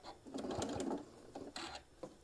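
A sewing machine stitches down the side of a fabric travel case for a mini iron, running in short quiet bursts with brief pauses between them.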